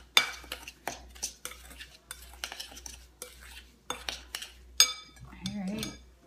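A spoon stirring a mixture in a bowl for apple dumplings, quick rhythmic clinks and scrapes repeating close by, with a brief soft voice near the end.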